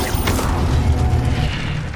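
A fire spell is cast in a Hogwarts-themed video game: a loud, dense whooshing roar with a low rumbling burst, sustained for about two seconds with no talk.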